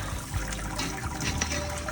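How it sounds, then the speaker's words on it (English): Water drains steadily through the grain bed of a German Helles homebrew mash in a Grainfather system, a continuous close trickling and running sound with no pauses. "you can hear the water draining out of the grain"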